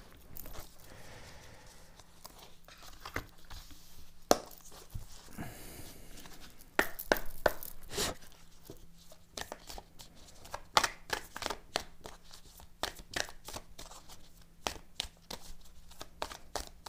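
Oracle cards being shuffled and handled close up, with irregular soft flicks, slaps and riffles spread through a long stretch and no voices.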